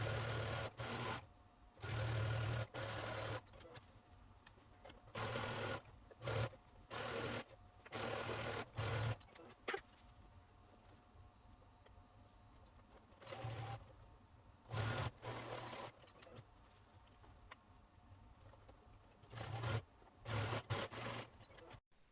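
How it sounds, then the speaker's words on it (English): A sewing machine stitches the seams of a tote bag in repeated bursts of fast mechanical whirring, each a second or two long, separated by quieter pauses, close up with no talk. "you will line them up right sides together, and you will sew them together the same way you sewed the lining bag together"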